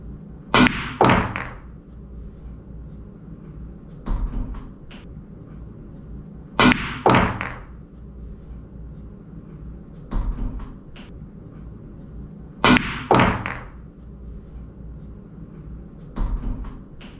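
Pool cue striking a ball in practice shots: sharp close clacks and thuds repeat in clusters about every six seconds, each followed by softer taps.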